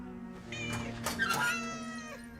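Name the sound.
cat meowing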